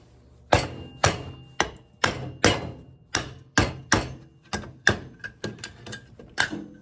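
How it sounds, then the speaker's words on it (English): Sharp metallic hammer blows knocking a part off a HMMWV X-door during restoration, about fifteen close, loud strikes in an uneven rhythm, each ringing briefly before the next. "that's gonna take a little bit of help from my faithful hammer to get that off."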